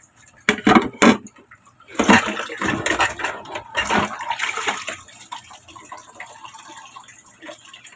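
Running tap water splashes during nighttime washing of dishes and laundry, with bursts of clatter and pouring early on that settle into a steady, softer flow, close and without talk.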